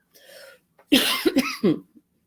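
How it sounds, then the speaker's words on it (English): A person close by gives a few harsh coughs in quick succession after a short breath, then falls quiet. "Forgive my cough."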